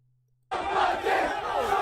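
A large crowd shouts and roars outdoors in a city street, a dense, continuous wall of voices that bursts in suddenly after a brief quiet moment.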